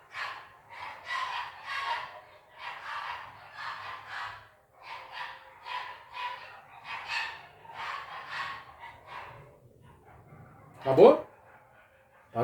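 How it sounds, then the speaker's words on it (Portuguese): Dogs from the street below bark repeatedly at a distance, a series of muffled yelps mixed in with someone speaking, followed by a brief louder burst near the end. "tem os cães da rua de baixo ainda latindo agora"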